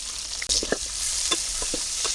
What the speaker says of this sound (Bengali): তেল গরম হয়ে গেছে দিয়ে দিলাম রসুন কুচি পেঁয়াজ কুচি